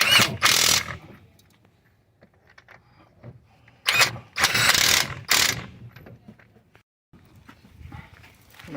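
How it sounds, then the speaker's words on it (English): A ratchet wrench tightens 19 mm bolts on the front brake knuckle of a 2008 Hyundai Santa Fe, giving bursts of rapid clicking, close and loud, separated by pauses with faint handling noises. "Tighten those two bolts down."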